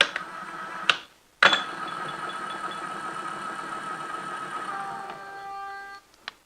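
A small milling machine's power feed motor drives the table with a steady mid-pitched whine and hum, starting abruptly after a click, running several seconds, then winding down and stopping, close and moderately loud.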